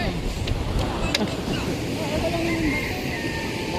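Small sea waves wash steadily against the shore in a continuous soft surf with wind noise, while a person talks faintly over the water.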